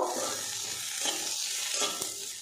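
Mustard seeds and two kinds of poppy seeds being stirred in a hot pan, a soft continuous sizzle with periodic scraping strokes of the spatula, no voices.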